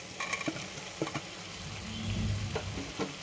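Tomato pieces fry in oil in a pan for a ridge gourd curry, a busy close sizzle with sharp spatula scrapes and taps against the pan, plus a brief low rumble midway.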